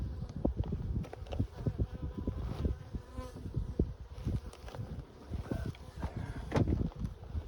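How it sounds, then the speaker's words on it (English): Honey bees hum and buzz around an open hive with honey supers, the drone near and steady, with gusts of breezy wind thumping against the microphone. "There's a bunch of bees in here"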